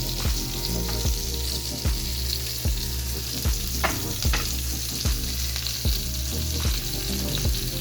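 Steady loud sizzling of onions, tomato and pepper frying in a hot pan, with rhythmic scraping taps as the vegetables are stirred.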